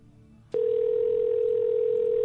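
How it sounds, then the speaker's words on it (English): A steady telephone ringback tone sounds while a call is being placed, starting abruptly after a soft click and holding loud and unbroken, with faint background noise beneath. "Oh, it's ringing now."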